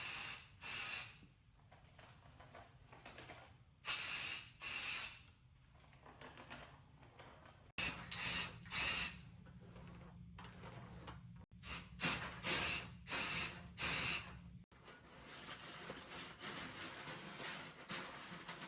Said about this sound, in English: I'm going to use this spray primer